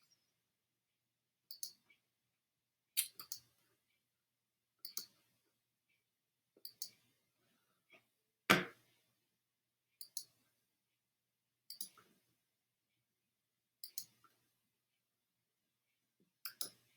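Computer mouse clicking while selecting lines in a drawing program: about a dozen quick single and double clicks spaced a second or two apart in near silence, one louder thump midway.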